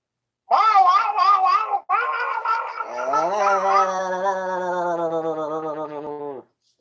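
Gabara, the ogre monster from the 1969 film Godzilla's Revenge, gives a long, whiny, cat-like caterwauling roar: a broken opening burst, then a sustained wavering wail that slowly descends before cutting off.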